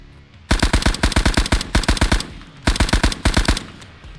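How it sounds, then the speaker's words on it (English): A Bren MK3 light machine gun fires in a video game: two long bursts of rapid, evenly spaced booming shots, loud and close, separated by a short pause. "Here we have the Bren MK3, a light machine gun, perfect for supporting an infantry push."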